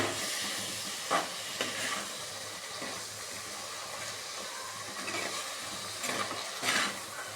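Vegetables sauté in a pan for Trichy-style sambar, giving off a steady, moderate hiss of frying with a few soft scrapes of stirring throughout.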